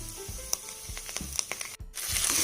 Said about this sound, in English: you can then fry this until the raw smell of the ginger garlic paste goes away